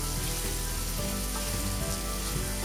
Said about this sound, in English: Then I'm going to cut my zucchini into thin little half moons and toss those in. Saute them until they get a little bit of color.